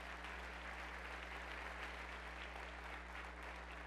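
Audience applause at a county government address, a steady wash of clapping held at an even level throughout, faint and distant with no voices standing out.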